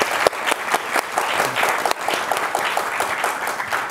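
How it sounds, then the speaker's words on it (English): An audience at a public talk with the Kurdistan Regional Government's Minister of Interior breaks into steady applause, a dense clatter of many hands lasting several seconds. "please join me in a round of applause for the minister for his remarks and time"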